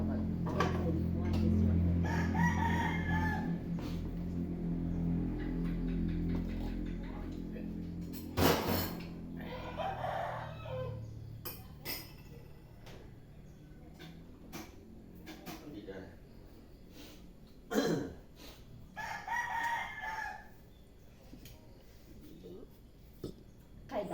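Chickens and a rooster at a rural home in the morning, with clucking and crowing coming in short bursts through the yard ambience while people talk over them.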